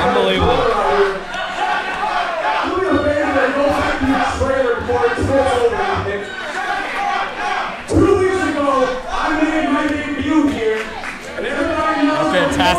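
An indoor crowd at an independent wrestling show cheers and shouts throughout, a steady dense roar with rising yells and chanting, while commentators talk over it.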